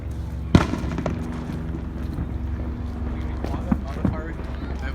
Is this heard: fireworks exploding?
yes